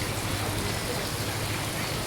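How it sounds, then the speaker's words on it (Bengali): A water sprinkler system sprays over a chicken shed, making a steady, dense hiss like heavy rain that holds evenly throughout. "দেখুন কিভাবে চারিদিকে পানি পড়ছে আর গড়কে ঠান্ডা করছে"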